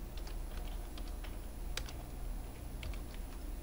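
Someone types on a computer keyboard while entering text in Microsoft Word 2007, giving quick, light key clicks in irregular clusters over a steady background hiss, with no talking.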